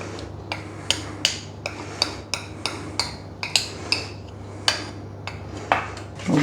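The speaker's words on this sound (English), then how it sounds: "We'll continue to whisk." A whisk beats chocolate brownie batter for red velvet brownies in a bowl, making a quick, uneven run of clinking taps and scrapes against the bowl's sides, close and clear with no talking.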